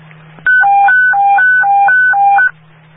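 Fire dispatch box alarm tone from Baltimore fire dispatch during the 2015 riots: a loud two-pitch electronic warble alternating high and low steadily for about two seconds over a constant low radio hum, with no talk.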